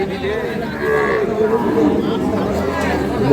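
Sahiwal cattle low at a crowded livestock market, with a long moo over a constant murmur of chatter and voices nearby.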